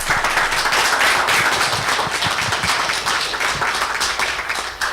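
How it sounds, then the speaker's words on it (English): Applause from the audience at a city council meeting, a dense, steady patter of many hands clapping that fills the room and runs for several seconds, loud and continuous with no talk over it. "let me give you a round of applause for all these members here"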